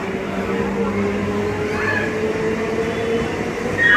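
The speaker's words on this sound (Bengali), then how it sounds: "এই ট্রেনে করেই এলাম, আর ট্রেনও ছেড়ে দিলে" A train pulling out of a railway station on a cloudy day, its steady rumble and rail noise continuous and fairly loud, swelling slightly at the end.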